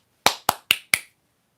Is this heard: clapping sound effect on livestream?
yes